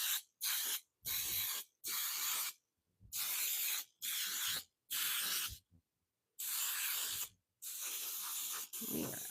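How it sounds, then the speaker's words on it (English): Non-stick baking spray misted onto a muffin tin in a series of about eight short, sharp hissing bursts separated by brief pauses, close and clear with no talk. "But spray them down."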